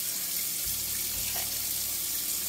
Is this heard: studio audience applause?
no